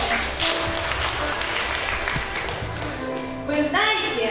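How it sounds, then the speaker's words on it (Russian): Audience applause for teachers at a school reunion in a hall, steady clapping throughout with a voice starting up over it near the end. "Поприветствуем наших учителей аплодисментами."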